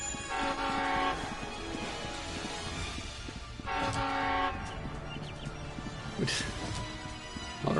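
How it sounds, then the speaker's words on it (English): A train rumbles past a crossing in the Crossing Souls video game, with loud, sustained horn blasts near the start, middle and end over a constant rolling rail noise. "A train! It's a train!"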